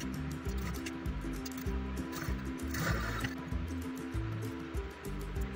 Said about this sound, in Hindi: इस तरीके से फोल्ड करके अच्छी तरीके से सिलाई लगा लेंगे।